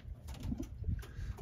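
Racing pigeons give soft, low coos close by, a few short throaty calls over quiet background.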